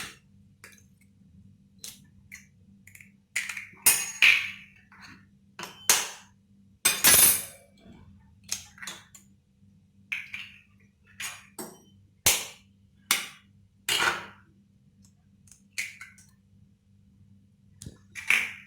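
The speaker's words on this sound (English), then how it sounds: "Let us break the eggs and add it into the vessel one by one." Eggs cracked one at a time into a cooking vessel for a steamed egg and vegetable dish: a series of sharp, close taps and clinks spaced irregularly, with quiet gaps and a low steady hum underneath.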